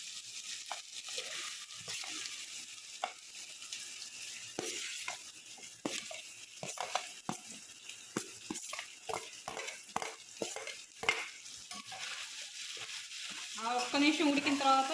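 Potato pieces sizzle and fry in a pan while being stirred for a Telugu potato curry, with repeated scraping strokes of a spoon over steady crackling oil.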